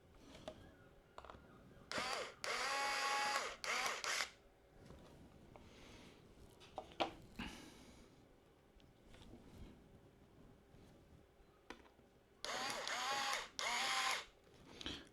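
An electric screwdriver drives a screw in short whirring bursts, taking care not to over-tighten, with a quiet gap and a faint click between two runs.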